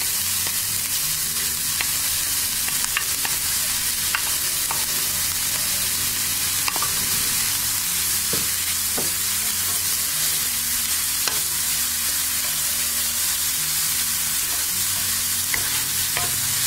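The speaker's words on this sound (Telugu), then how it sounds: "ఇప్పుడు అదే నెయ్యిలో మనం తురిమి పెట్టుకున్న క్యారెట్ని వేసి వేయించుకోవాలి." Grated carrot frying in ghee for carrot kheer, a steady, close sizzle with scattered scraping stirs throughout and no voices.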